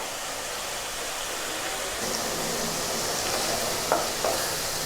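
Spice paste (masala) stir-fries in oil in a pan for a fish and cauliflower curry, a steady soft sizzle with a couple of light scraping clinks near the end, no talking.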